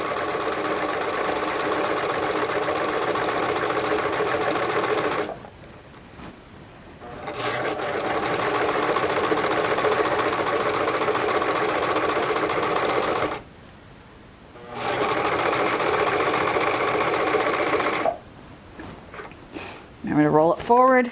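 Sewing machine stitching fabric during a dressmaking pattern project, running in long steady bursts with short pauses between seams, fairly loud and close, with brief handling noises at the end.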